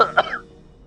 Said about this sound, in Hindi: ये खांसी मेरे प्राण ले लेगी।